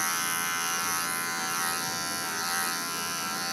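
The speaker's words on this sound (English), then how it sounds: "So now I can move the tail, and now I shave backwards" Electric clippers fitted with a 10 blade shave backwards along a poodle's tail, giving a steady, close, unbroken high buzz with no talk.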